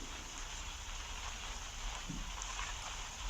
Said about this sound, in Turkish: Çok güzel yapmışlar moda ama yağmur gerçekçi duruyor baya.